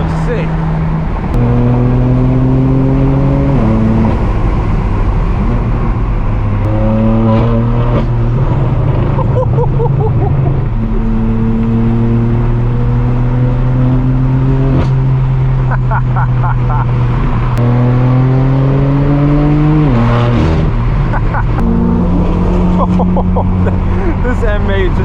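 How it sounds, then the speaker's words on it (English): A straight-piped BMW M8 revs and accelerates through several gears, its loud engine and exhaust rising and dropping in pitch with each shift, heard close up from inside the car with occasional voices underneath. "This M8 just sounds amazing."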